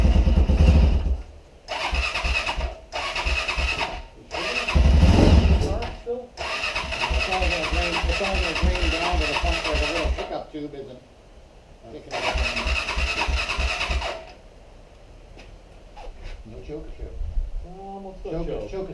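A neglected Honda Sportrax 400EX ATV with the choke on is cranked repeatedly. Short, loud bursts of engine noise are separated by pauses, followed by longer stretches of rough running that fade near the end.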